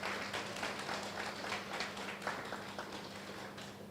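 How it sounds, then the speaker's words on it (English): Fairly faint, steady clapping from an audience at a university partnership launch and signing ceremony, sustained throughout over a low hum. "give yourselves a round of applause for applying"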